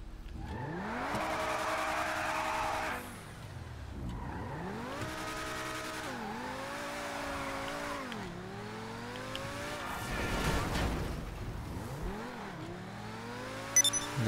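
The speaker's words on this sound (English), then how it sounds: "The Progen T20 Rockstars Mclaren P1." A Progen T20 Rockstars McLaren P1, probably a scale RC car, drives on its own with rising and falling engine-like whine sweeps, repeated accelerations, and tire squeals and skids throughout, with no talk.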